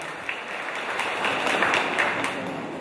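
Congregation at a parish church applauding to welcome the Archbishop, a sustained round of clapping that swells slightly in the middle and carries a few sharper individual claps.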